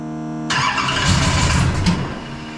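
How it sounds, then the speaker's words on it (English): A drift car's engine cranks and catches abruptly, then runs rough and loud close by with small revs as it is kept going, ending in a brief squeal-like rise before settling. "Just try to give it a little bit and keep it running for a little bit, and then it should idle."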